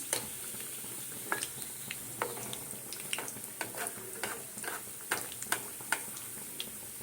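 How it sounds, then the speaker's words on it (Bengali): Food fries in oil sprinkled over the top rather than deep-fried, while crisp rolled snacks cook in a pan. A soft steady sizzle runs throughout, broken by sharp scattered pops and crackles, fairly faint and with no talking. "তেলটা একটু ছিটিয়ে ছিটিয়ে দিতে হবে ওপরে ডুবো তেলেও করতে পারো আবার এইভাবে তেল ছিটিয়ে ছিটিয়েও করতে পারো"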